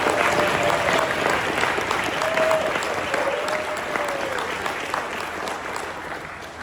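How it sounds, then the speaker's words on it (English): Audience at a Northeast Neighborhood Alliance meeting applauds both candidates before a vote: steady, dense clapping from a roomful of people, fairly loud and sustained throughout, with a faint voice briefly audible underneath. "let's give both candidates a big round of applause"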